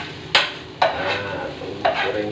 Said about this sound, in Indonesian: Goreng dulu ini kompornya agak dikecilin